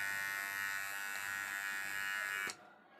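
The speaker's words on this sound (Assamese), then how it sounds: "এতিয়া ধুনীয়াকৈ আমাৰ দাঢ়ি বা কিবা এটা কাটিব পাৰোঁ।" An electric beard trimmer buzzes steadily and close for about two and a half seconds, then cuts off abruptly, leaving a faint hum.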